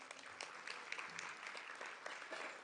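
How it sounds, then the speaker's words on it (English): A small group applauds at a women's coffee chat gathering, steady clapping that is faint and somewhat distant, lasting a few seconds. "Let's give them a round of applause."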